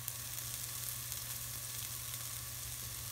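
Onions frying in a pan with turmeric just added for a drumstick curry in mustard gravy, a steady soft sizzle crackling continuously, close and fairly quiet, with no talking.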